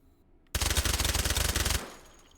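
A suppressed Vector 45 SMG fires one rapid, loud, sustained burst of just over a second in the H3VR video game, with quiet before and after.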